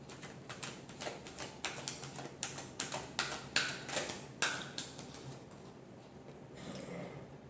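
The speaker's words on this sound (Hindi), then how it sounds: "एक लास्ट शफल करेंगे।" Tarot cards shuffled by hand during a love reading, heard as a steady series of soft, crisp riffling taps and flicks, close and fairly quiet with no talking.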